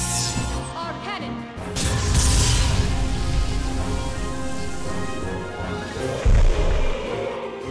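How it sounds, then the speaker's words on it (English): Cannon fire in the video game Xenosaga Episode 1, a charging hum followed by a heavy booming blast with a long rumbling tail over layered game music, and a second sharper impact near the end. "Our cannon."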